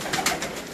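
Caged pigeons give a brief, close, soft cooing burst lasting under a second.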